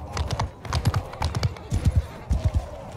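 Horse hooves clip-clop in a quick galloping rhythm in the video game Mount & Blade II Bannerlord during a large multiplayer siege battle, loud and close throughout.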